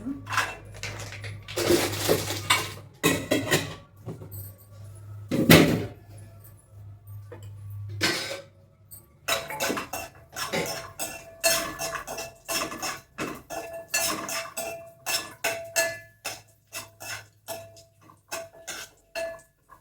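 Raisins and almonds for semiya payasam go into a pan and are stirred and fried, heard as scattered metallic clinks and scrapes of a spoon against the pan, close and intermittent, with a faint steady hum in the background.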